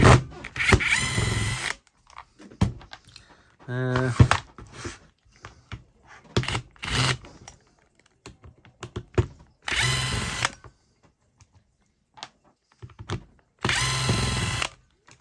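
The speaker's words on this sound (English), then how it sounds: "That's a smooth little drill." A Makita 14.4V cordless impact driver whirs in several short, loud bursts separated by pauses, with some clicks and handling noise between runs.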